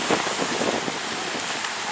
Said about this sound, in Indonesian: angin kencang kembali bertiup menghempaskan tenda-tenda para kontingen